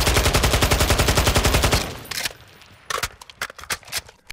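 Zenitco AK-74M rifle in Call of Duty Modern Warfare II firing a rapid full-auto burst of sharp, evenly spaced shots for about two seconds, then silence broken by scattered clinks and clicks, loud and close.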